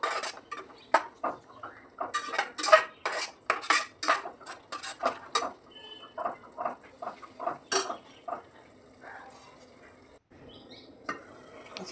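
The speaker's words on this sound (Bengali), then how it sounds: "মশলাগুলি দিয়ে একটু নাড়াচাড়া করে নিই।" Spices are stirred in a cooking pan for palak paneer, with a quick run of close metallic scrapes and clinks of a spoon against the pan over faint sizzling, slowing to sparser taps near the end.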